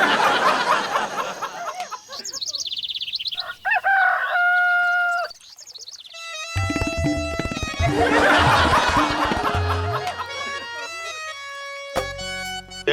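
Chicken clucking and a rooster crowing in a Hindi comedy episode, loud and close, with bright repeated calls mixed with musical stings and sound effects.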